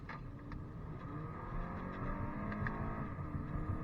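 A 2015 Acura ILX engine revs and accelerates with a rough, steady roar that swells slightly louder, heard up close with no talking.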